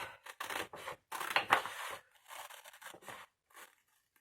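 Scissors snip through 6 cm box ribbon in a string of close, dry cutting strokes and rasping bursts, with short pauses between cuts and no talk.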